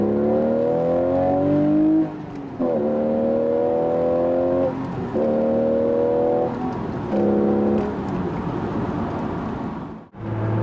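A 2015 Porsche 911 Carrera GTS coupe (991.1), rear-wheel drive with a 7-speed manual, revs hard through the gears, its engine rising in pitch, dropping briefly at each quick upshift, then easing off near the end.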